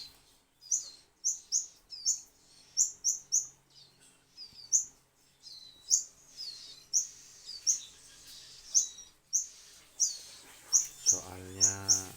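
Cigun songbirds chirp in quick, bright bursts, repeating steadily at close range and fairly faint, with a brief low hum near the end.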